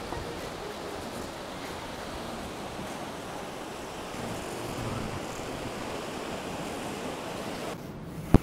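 Steady broadband rush of ocean surf mixed with wind buffeting the microphone on the Meloneras seafront boulevard, Gran Canaria, continuous throughout with a brief sharp knock at the very end.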